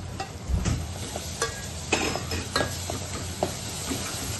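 A paste of ground onion, tomato and coriander fries in a pan, giving a steady close sizzle broken by several scraping stirs of a spoon, with no talking.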